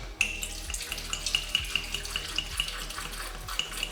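Water pours steadily into a blender jar holding frozen mango, banana and honey for a smoothie, a continuous close splashing trickle with no talk.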